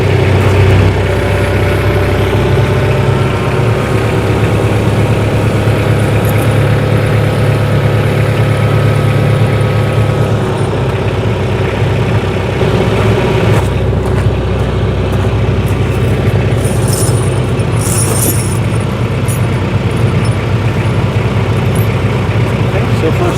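A tractor engine fitted with pewag doppelspur snow chains drones steadily and close by as it drives forward in winter, a continuous low rumble with no break.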